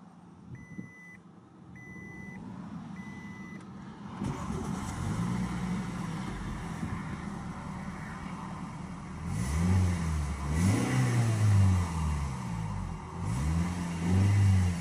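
Push-button start of a 2013 Toyota Corolla: a few short beeps, then the engine fires and settles into a steady idle, with a couple of revs swelling the hum toward the end.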